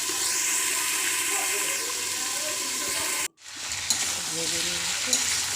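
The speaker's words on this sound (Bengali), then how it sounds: "দেখুন বন্ধুরা কত ভালোভাবে ভাজা হয়ে গিয়েছে" Steady, close sizzling of pumpkin frying in a pan, with a brief silent cut partway through before the sizzle resumes.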